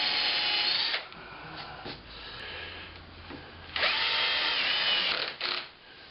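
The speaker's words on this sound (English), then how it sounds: "So I'm going to have to go ahead and countersink these manually." Power drill countersinking screw holes in the top of a folding-leg work table, whirring in a few short bursts of varying length with brief pauses between them.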